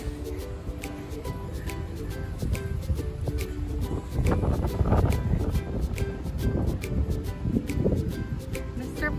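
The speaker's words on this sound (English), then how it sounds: "It's a little windy." Wind rushes across the microphone outdoors on a family vacation trip to an aquarium in Cancun, a continuous rough rumble that strengthens in the middle with faint voices underneath.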